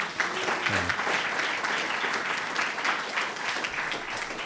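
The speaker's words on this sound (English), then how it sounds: "let's give Jean actually another round of applause" Steady applause from an audience at a talk on austerity, a dense crackle of clapping that holds evenly for several seconds with a faint low voice briefly underneath.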